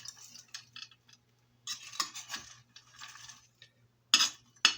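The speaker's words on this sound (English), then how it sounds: "the stirring is kind of like folding, but you know, considering all the bits are little pieces of cereal, it's stirring" Cereal party mix with butter and lemon juice stirred in a bowl, giving scattered dry rustling and clinking scrapes in short bursts, with a few sharper clatters near the end; no voices.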